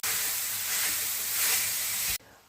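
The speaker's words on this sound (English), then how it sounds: "Start with frying off my peppers. Next, I'm going to add my mince." Peppers and minced meat fry in a pan while meal-prepping spaghetti bolognese, giving a steady, loud hiss and sizzle that fills the clip before cutting off abruptly near the end.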